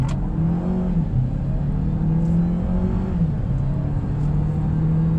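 A 2024 GAC Empow sport sedan engine revs hard in first gear, its pitch climbing, dipping and climbing again in a sustained loud drone heard from inside the car.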